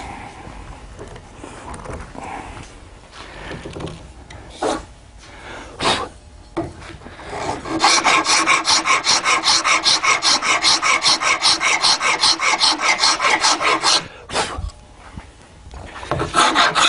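Hand file rasping across wood to take out mill marks, first a few scattered strokes, then a long run of rapid, even back-and-forth strokes, loud and close with no talking.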